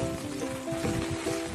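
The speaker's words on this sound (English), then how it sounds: "it's raining." Steady rain patters on surfaces around Raja's Tomb in Coorg, a dense close hiss with faint tonal hum underneath and no talking.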